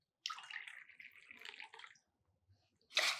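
Water poured into a pot for making herbal tea, a steady splashing pour that runs for about two seconds, stops briefly, then a louder burst of pouring at the end, with no talking.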